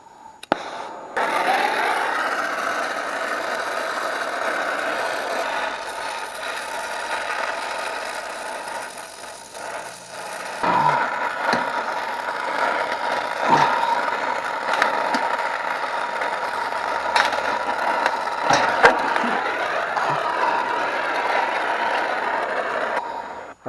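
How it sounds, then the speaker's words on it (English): A torch roars steadily while sweating out a fitting on a scroll compressor, a continuous close hiss with occasional clicks and metallic knocks mixed in. "that's kind of how you sweat out a fitting on your compressor instead of having to cut it"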